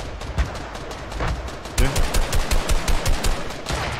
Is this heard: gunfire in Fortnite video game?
yes